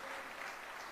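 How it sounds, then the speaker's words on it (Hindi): Audience applause at a public political speech, a brief burst of dense clapping from a crowd, fairly faint and heard alone. "अरे ताली बजाने की क्यों गुजरातियों को जल्दी है?"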